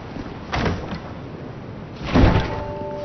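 Wooden chest creaking open in the Dark Souls 2 video game, two dull thumping bursts about a second and a half apart, the second louder, with a faint tonal hum underneath.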